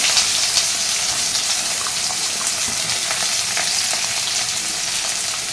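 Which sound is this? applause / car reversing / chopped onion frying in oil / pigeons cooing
chopped onion frying in oil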